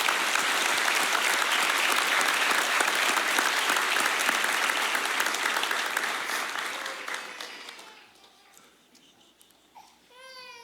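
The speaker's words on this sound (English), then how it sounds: "We do need another round of applause" A large crowd at an academy graduation ceremony applauds loudly and steadily, then the clapping thins and fades out, leaving a few scattered sounds at the end.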